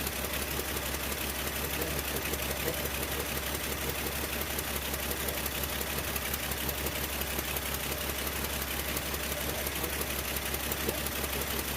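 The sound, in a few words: 1975 Plymouth Duster engine idling after tune-up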